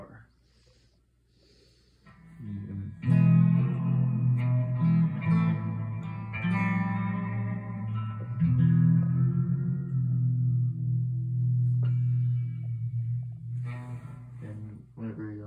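Distorted electric guitar with tremolo, sustained chords ringing with a wavering pulse, loud and close, starting after a quiet opening and carrying on steadily to the end.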